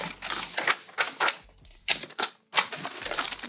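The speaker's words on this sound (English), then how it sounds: "I'm gonna cut foam." Foam for a bucket tote bag being cut, a close series of crisp snipping and crunching bursts separated by short pauses, with no talking.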